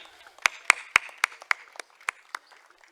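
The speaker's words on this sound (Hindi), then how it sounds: "इनके स्वागत के लिए जोरदार तालियां" Sparse applause welcomes a guest to the stage at a poetry gathering: around ten distinct, sharp hand claps ring out irregularly and fade to a few scattered ones.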